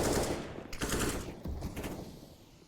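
Rapid AK rifle gunfire in Counter-Strike on the Nuke map during a competitive ESEA match, a loud burst of shots at the start fading into echoing follow-up fire.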